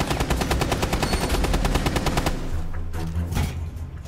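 Rapid automatic gunfire in the video game Rainbow Six Siege, a loud, fast string of shots lasting about two seconds, then a few scattered heavier blasts and rumbling.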